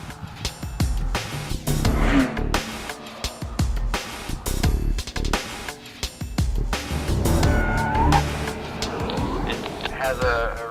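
A 2014 Cadillac CTS-V Sport running a slalom at about 68 mph, the engine surging and easing in uneven bursts as the car swings through the cones, with someone talking over it.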